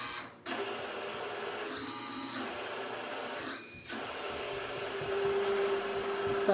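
BLDC spindle motor on a PM25 mill, running open loop at 1,000 RPM, gives a steady close whine and hum with a faint tonal line, broken by a couple of brief clicks and shifts.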